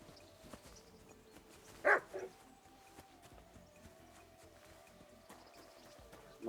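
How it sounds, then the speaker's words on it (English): A dog barks twice in quick succession in the medieval video game Kingdom Come: Deliverance II, a short sharp burst rising briefly above a quiet, low ambient hum, with faint further yips near the end. "Barking."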